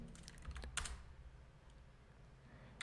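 HTML and CSS code is typed on a computer keyboard, a quick cluster of close clicking keystrokes at the start, a quieter pause, then a few more taps at the end.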